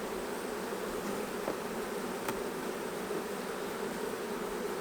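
Honey bees from a long hive hum in a steady, dense drone that holds at an even level throughout, with no voices over it.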